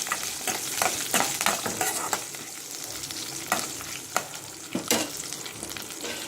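Onions sauté in a hot pan for a Madurai mutton kulambu, with continuous sizzling broken by scraping stirs and occasional knocks of the spoon, close and steady, no voices.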